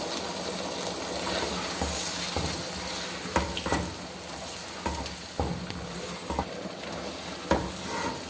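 Potatoes and peas frying and being stirred in a pot while making aloo matar rice pulao, with a steady sizzle and occasional scraping stirs and clinks, no talk.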